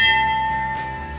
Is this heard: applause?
no